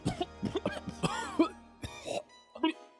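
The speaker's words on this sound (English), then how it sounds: "Coughing up his own blood." A video game character in Final Fantasy VIII coughs up blood, several short, harsh, close coughs and throaty gasps in quick succession.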